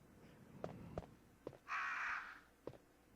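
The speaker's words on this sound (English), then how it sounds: "Yeah, you crows, I know." Several distinct crow caws in a Resident Evil video game, spaced irregularly over a low ambient background, with one broad bright burst of game noise partway through.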